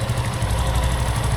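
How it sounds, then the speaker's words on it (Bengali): A Suzuki Gixxer Fi motorcycle engine idles just after a morning start, a steady close, loud, slightly rough thrum with no talk. "এখন যে সাউন্ডটা শোনাবো এটা হচ্ছে সকালবেলা জাস্ট বাইকটা স্টার্ট দিছি স্টার্ট দেওয়ার পরে এই সাউন্ডটা এখন কেমন আসে"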